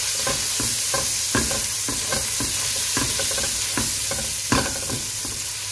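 Mushrooms frying in a pan, stirred with steady scraping strokes over a constant close sizzle, with no one talking.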